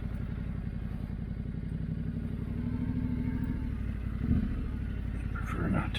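A motorcycle ridden on steep ground putters with a rapid, even engine beat, fairly quiet, with a brief clatter and a small rise in revs near the end.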